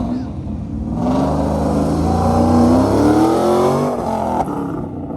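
A Camaro and a Miata accelerate off the line at an autocross event, a strong engine note rising steadily in pitch for several seconds before easing off, with commentary voices faintly beneath.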